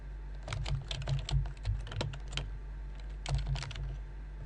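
Keys clatter on a computer keyboard as a password is entered, quiet irregular bursts of taps with short pauses between groups.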